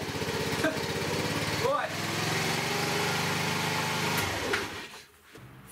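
A small 50cc moped scooter engine idles steadily and close with a buzzy, light drone, then cuts out near the end; someone speaks briefly over it.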